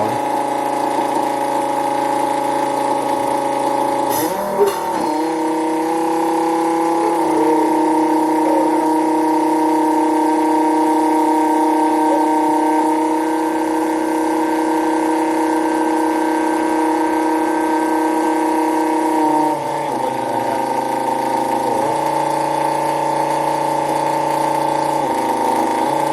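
An electric fuel pump in a new fueling system for a Kubota tractor hums steadily and loudly, starting with a click, shifting pitch slightly as fuel flows, and then changing tone near the end.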